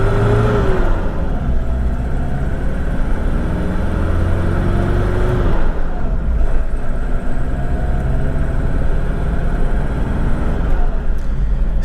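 Engine of a 2002 Toyota Qualis with a 2.4 diesel, pulling away in first gear, a steady close, loud mid-pitched drone that rises slightly as the vehicle moves off, with no talk over it.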